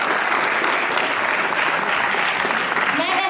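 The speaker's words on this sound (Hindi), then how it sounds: "बहुत जोरदार ताली उनके लिए" Audience applause at a stage play performance, a dense, steady burst of clapping from a crowd, close and loud throughout, easing slightly at the very end.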